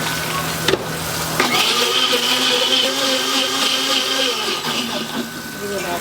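A kitchen blender grinds ingredients with a loud, steady whirring motor, briefly stuttering near the start before settling into a continuous churning drone.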